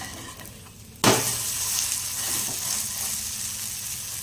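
A bajra spinach pancake is flipped in an oiled pan: a sudden bump, then a steady, close sizzling hiss of frying that continues evenly to the end.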